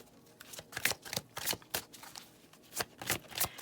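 Angel Answers tarot cards are shuffled by hand in a steady run of soft, rapid riffling flutters and slaps, close and fairly quiet, with no voice present.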